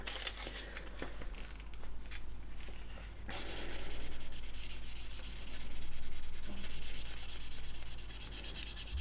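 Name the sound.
sanding a plastic model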